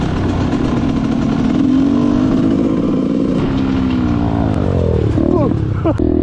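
An enduro dirt bike ridden on an abandoned motocross track, its engine droning loud and close with rising and falling revs, a rider talking over the noise in places.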